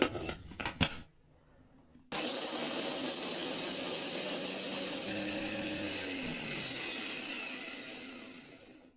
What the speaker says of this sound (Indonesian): Siapkan chopper, masukkan semua bahan tadi.